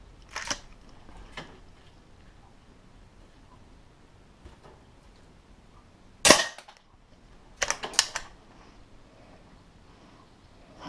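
Air pistol firing lead pellets at a target 8 metres away indoors, a few sharp close pops spaced seconds apart with quieter handling clicks and no talk.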